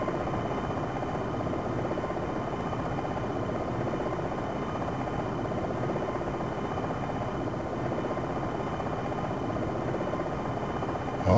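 Helicopter hovering in the Jane's Longbow 2 flight simulator game, a steady, loud rotor and engine drone holding constant throughout, no talk over it.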